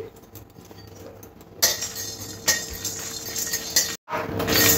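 Fennel, cumin, black pepper and dried red chillies dry roasting in an ungreased pan for chicken masala, with light clinks and scrapes of a utensil against metal over a soft crackle, no voices.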